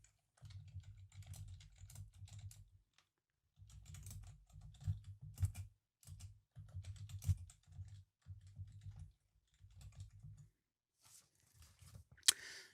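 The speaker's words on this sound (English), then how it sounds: "we're just going to type those types of notes in here" Someone types notes on a computer keyboard in bursts of rapid close keystrokes separated by short pauses, ending with a sharper click, quiet and without speech.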